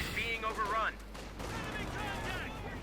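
Tank and infantry combat in the video game Company of Heroes 2, with a Panther and a Pershing engaging amid distant gunfire rumble while a commentator talks over it.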